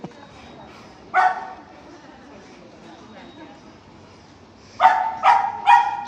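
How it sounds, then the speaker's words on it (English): A dog barks once near the start, then lets out a quick burst of three barks toward the end, close and fairly loud over low chatter and ambient noise at an outdoor arts festival. "that's a dog"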